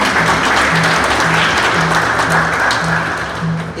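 A congregation at a funeral in Yaoundé, Cameroon bursts into sustained, loud applause that fills the whole stretch, with a steady low musical hum beneath the dense clapping.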